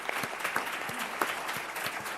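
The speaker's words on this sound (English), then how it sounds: "Let's give them a round of applause." A crowd claps for a high school's graduation-rate gain at a Palm Beach County event, a dense, even wash of many hands with a few sharper nearby claps standing out, moderately loud throughout.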